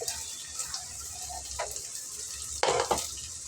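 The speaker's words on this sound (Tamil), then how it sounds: "இப்போ பச்சை மிளகா போட்டுப்போம் அப்படியே கொஞ்சம் கருவேப்பிலை" Green chilies and curry leaves crackle in hot oil in a pan, a steady close sizzle with a sharper spattering flare near the end, no voices.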